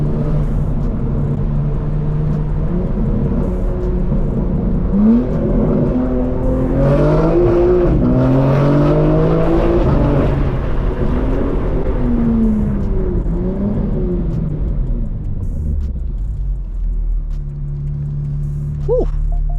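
A BMW M4 with newly installed downpipes rumbles in a low drone from inside the car, then revs up through rising engine tones under acceleration before settling back down, loud and close with some talk.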